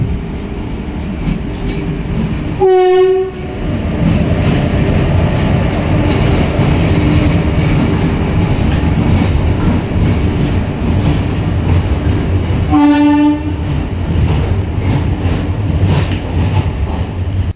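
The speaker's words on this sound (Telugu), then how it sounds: "ఫ్రంట్ వచ్చేసి ట్రైన్ కర్నూలు సిటీ రైల్వే స్టేషన్కి అయితే ఎంటర్ అవుతుంది" The Aurangabad–Guntur Express runs into Kurnool City railway station with a steady, loud rolling rumble of wheels on track, broken by two distinct horn blasts, one early and one near the end.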